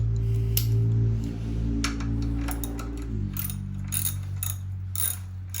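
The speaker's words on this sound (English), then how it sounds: "I have to get a 13 millimeter and tighten this top bolt" A ratchet with a 13 mm socket tightens the top bolt on motorcycle guards, giving a steady run of close, fast ratchet clicks over a low mechanical hum that drops partway through.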